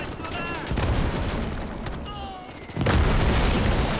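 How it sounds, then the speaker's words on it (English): Heavy mortar fire in the WWII real-time strategy game Gates of Hell: deep booming blasts at intervals, the loudest near the end, over a continuous rumble of battlefield noise and scattered gunfire. "Look at that big mortar."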